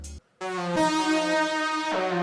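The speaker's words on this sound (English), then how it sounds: "This was originally a guitar riff, and we moved it to we chose a 70s analog synth" A 70s analog synth plays a lead riff, a bright, buzzy sustained tone rich in harmonics, shifting between held notes after a brief gap near the start, loud and alone.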